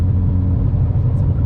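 Cabin rumble of a Chevy HHR SS driving with a new Twin Disk clutch, a steady low engine and road drone, loud and close, with no talking.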